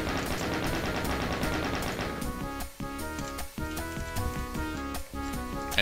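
Rapid gunfire in the video game Doom plays under loud, dense music, the shots coming as regular sharp bursts, with the music carrying on alongside the firing.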